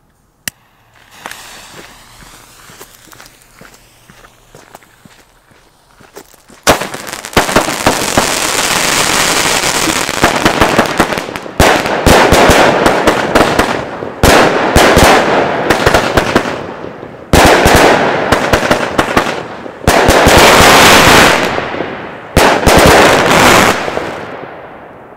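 A Falcon consumer fireworks battery fires outdoors: after a quiet start with a single pop, it launches into loud, dense crackling bursts and rapid bangs in repeated clusters separated by brief gaps, continuing to the end.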